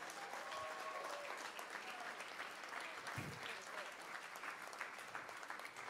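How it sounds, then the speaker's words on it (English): Audience applause at a school rock and pop concert, a dense, steady wash of many hands clapping through the whole stretch, with a few faint voices and whoops mixed in. "so a big round of applause for them"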